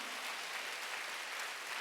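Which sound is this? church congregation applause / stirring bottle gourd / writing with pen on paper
church congregation applause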